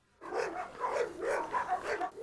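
A female dog barks and yips repeatedly in quick, excited bursts, close and fairly loud, with no talk over it.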